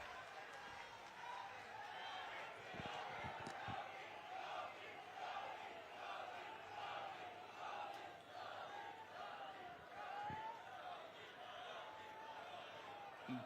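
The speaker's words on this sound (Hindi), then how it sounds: "एक बार सब अपनी जगह से खड़े होकर के ताली बजा करके" A large crowd at a political rally in Rajnandgaon, Chhattisgarh claps and cheers in a dense, continuous roar of applause and shouting voices that lasts throughout.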